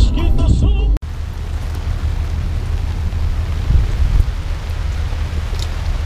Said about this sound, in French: Et il pleut beaucoup pour un jour d'été.